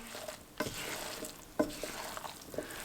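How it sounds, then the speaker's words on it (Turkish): Salad ingredients with lemon juice are tossed and stirred by hand, giving soft, faint, wet squishing and rustling with a few louder pushes. "Şimdi bunları karıştıralım bakalım."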